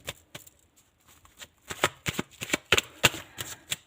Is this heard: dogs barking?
no